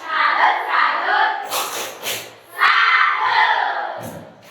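A group of children shout a rhythmic 'tepuk salut' clap cheer together in a classroom, loud and close, in short bursts broken by quick gaps and a few claps.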